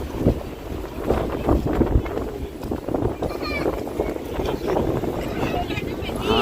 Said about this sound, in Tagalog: Mahangin lang ngayon guys